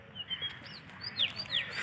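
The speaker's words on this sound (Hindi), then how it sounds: "देखिए बहुत सारे कोयलों की आवाज़ आ रही है" Several koels call in a city park in Bokaro, Jharkhand. Their rising, whistled notes come from a short distance and repeat over a low background hum of the park.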